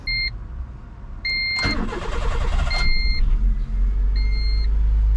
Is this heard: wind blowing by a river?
no